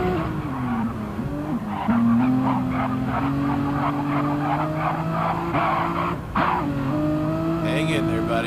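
GTC-3 race cars packed close together in a racing video game at Trial Mountain, engines droning steadily with tire squeal and skidding throughout, a commentator talking over the continuous roar.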